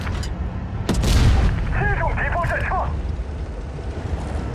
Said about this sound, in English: E100 fires